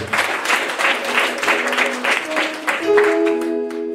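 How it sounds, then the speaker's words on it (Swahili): Congregation applauding during a Baptist church service, a sustained burst of many hands clapping throughout, loud and close, with some voices mixed in as it tapers off. "Makofi kwa kuwapokea."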